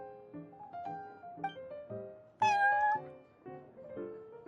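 A cat in Genshin Impact meows repeatedly in a short series of clear, fairly quiet calls, one louder, higher-pitched meow standing out in the middle.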